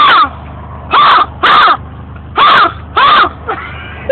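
A person cups their hands to imitate a crow, making about six harsh, raspy caws in an uneven rhythm, each loud and close, with pauses between and no talking.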